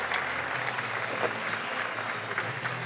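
Sustained audience applause at a French barista competition final fills the hall, steady and even throughout with a faint crowd murmur beneath.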